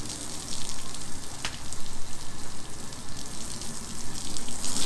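Water sprays in a steady hiss with a pulsing, uneven rhythm, close and moderately loud, as if shooting from a hose nozzle in short surges.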